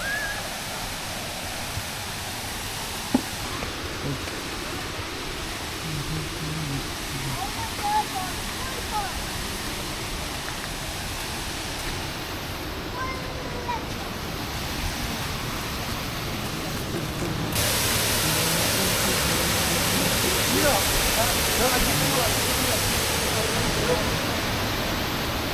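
Lyngksiar Falls, a waterfall where people swim in clear water, pours as a steady broadband rush that grows louder partway through and holds unbroken to the end.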